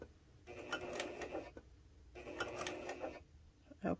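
Janome HD9 sewing machine stitching through several layers of fabric in two short bursts of rapid mechanical clatter, separated by a brief pause for a backstitch, with a small click at the end.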